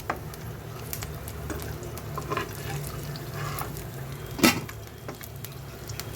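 Prawn and pui (Malabar spinach) leaf fritters fry one at a time in hot oil, giving a steady low sizzle with light scraping and stirring clinks, plus one sharper utensil clatter partway through.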